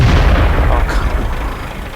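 Booming tank cannon fire in World of Tanks, heavy low rumbling blasts sustained across the moment, loud and dense with battle noise and a voice talking underneath.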